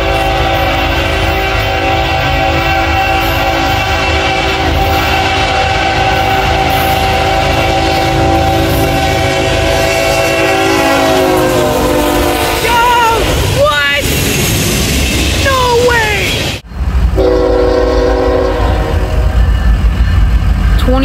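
A Union Pacific freight train rolls past loud and close, its wheels rumbling steadily while the air horn sounds in long, sustained blasts that bend and shift as it goes by, with a person's voice mixed in.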